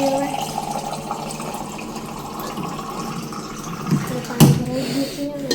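Water pouring steadily into a container during temple cleaning, a continuous trickling fill with a few louder splashes near the end.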